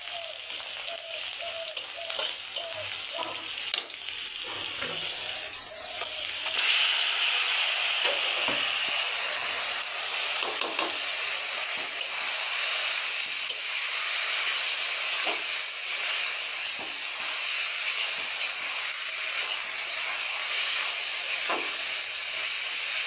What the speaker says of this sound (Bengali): এই যে শাক সিদ্ধ হয়ে গেছে, আমি এখন এই যে তেল দেব শাকে